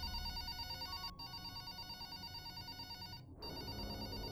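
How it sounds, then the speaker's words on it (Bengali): A cartoon telephone rings with a bright, repeated electronic trill, fairly quiet, broken by two short gaps between bursts of ringing. "ও হঠাৎ একটা ফোন বাজার আওয়াজ পায়"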